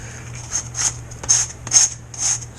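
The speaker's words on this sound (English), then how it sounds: "sand and hold it like that so you don't rip it off" Small glued foam and wood parts of a model aircraft build are sanded by hand in short, separate scratchy strokes, five or six soft rubs spaced about half a second apart, close and quiet, with no talking.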